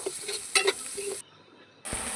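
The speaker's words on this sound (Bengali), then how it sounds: "কড়ার মধ্যে তেল দিয়ে 5 ফোড়ন, পেঁয়াজ কুচি আর কাঁচা লঙ্কা চেরা দিয়ে দিচ্ছি" Onion, slit green chilli and panch phoron frying in oil in a clay pan, a close, dense sizzle with a few sharp crackles, cut by a brief silent gap.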